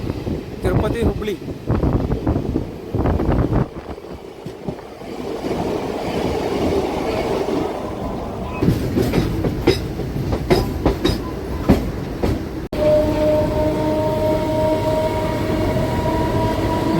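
A DEMU passenger train on the Nandyala to Renigunta route rolls out from Kadapa, its wheels clattering rhythmically over the rails with a steady rumble and rushing wind, loud and close from inside the carriage.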